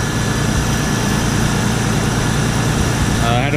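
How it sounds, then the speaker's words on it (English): A turbo-converted Nissan Skyline R34 GT idles smoothly and evenly, a continuous close engine drone with a faint whine on top, while voices are heard in the background. "Sounds good, idling smooth."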